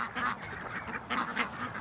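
Big jumbo Pekin cross ducks quack and honk in a few rough, closely spaced calls, moderately near, with no talking.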